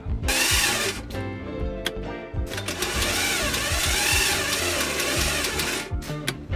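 A sailing yacht's marine engine is cranked by its starter motor on a weak battery after its fuel system was flushed, giving a loud, continuous mechanical churning that fills the whole stretch with a few brief dips.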